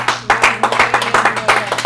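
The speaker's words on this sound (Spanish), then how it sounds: "Denle un aplauso a Cristo." A church congregation claps loudly in a steady, rhythmic beat, each even stroke sharp and close, with a low constant hum underneath.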